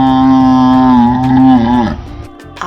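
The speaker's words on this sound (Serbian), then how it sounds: "afrički bivol" An African buffalo gives a long, loud, low mooing bellow that holds steady and then tails off, heard alone and close.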